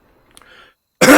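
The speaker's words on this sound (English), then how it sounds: "can't clear my throat" A person clears their throat with a brief gravelly rasp, followed by a sudden loud, harsh burst close to the mic, with nobody talking.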